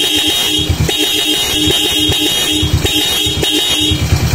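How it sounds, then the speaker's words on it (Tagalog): A Suzuki Raider J Pro motorcycle horn honks repeatedly in short bursts close by, over a steady engine hum and workshop noise. "Ito yung busina natin"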